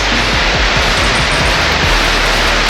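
Heavy rain pours down in Bali, a loud, dense, unbroken hiss that fills the whole clip, with a few low thuds underneath.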